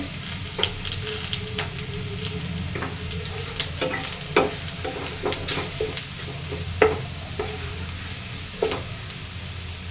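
Data shak leafy greens fry in oil in a pan with a continuous, near sizzle while a spatula stirs and scrapes them in irregular clicks and knocks.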